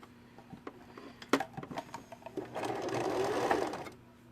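An older mechanical sewing machine stitches a zigzag, first with scattered clicks and taps of handling, then a steady whirring run of rapid needle strokes for about two seconds, close and alone.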